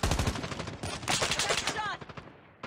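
Rapid automatic gunfire in the Call of Duty Mobile game during a hardpoint team deathmatch, with dense, loud, close bursts of shots that run almost continuously and then break off near the end.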